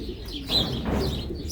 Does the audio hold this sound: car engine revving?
no